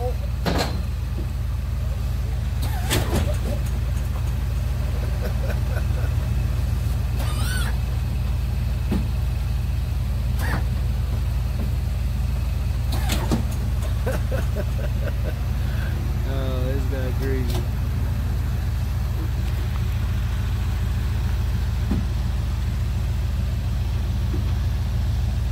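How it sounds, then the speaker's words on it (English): A 1980 Cadillac Coupe DeVille fitted with hydraulics sits with its engine running, a steady low rumble held throughout beneath excited voices and occasional sharp clicks and knocks. "This is a 1980 Coupe DeVille Cadillac with hydraulics."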